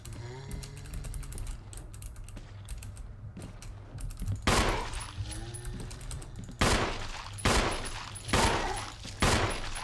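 Gunfire in Resident Evil HD Remaster comes as three loud, spaced shots, each a sharp broadband burst with a short decay, following quieter clicking and game ambience.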